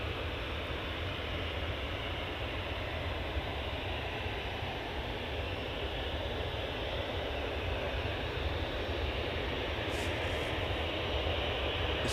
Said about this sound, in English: This EasyJet A320 is off to Prague